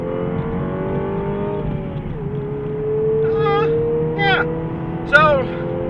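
A 2017 MINI Clubman JCW engine hums and revs on a track, a steady drone with rising downshift blips near the end.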